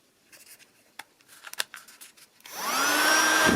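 A USB-powered FD-368 keyboard vacuum cleaner, plugged into a computer, is switched on after a few light handling clicks. It then runs with a steady, close whirring hum and a thin high whine for the final second.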